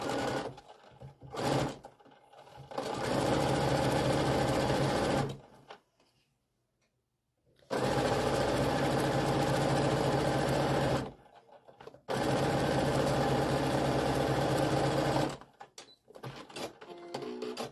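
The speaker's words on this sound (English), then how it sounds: "So I am just going to sew these together." A sewing machine stitches striped fabric pieces together for a pillow in three long, steady motor runs with a rapid needle whir, separated by short quiet pauses and small handling clicks.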